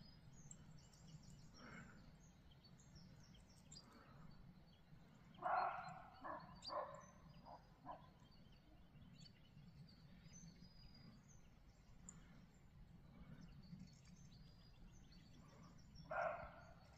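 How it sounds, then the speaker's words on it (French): Roe deer give a few short, hoarse, dog-like barks heard faint and distant outdoors, widely spaced over a quiet background with faint bird calls. "On dirait un chien qui aboie, mais c'est pas un chien. Normalement, c'est le chevreuil."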